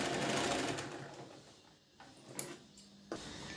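Sewing machine stitching a blouse, a loud rapid run of stitching at first that slows and fades, followed by a few isolated clicks and short bursts of machine noise.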